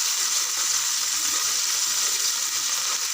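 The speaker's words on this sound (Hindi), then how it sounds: "अब मैं इसमें डालूँगी थोड़ा सा पानी।" Water is poured into a pan of browned onions frying in ghee over a low flame, giving a steady, loud hiss and sizzle with no pauses.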